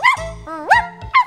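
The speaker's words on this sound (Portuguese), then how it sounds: "então é por isso que os cachorros latem." A dog barks and yips in three short, close, high-pitched bursts with a whimpering tone between them.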